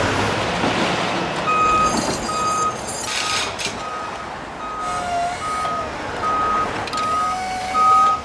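A delivery truck reverses with a steady series of evenly spaced beeps, accompanied by a rumbling engine and street noise at an early-morning unloading.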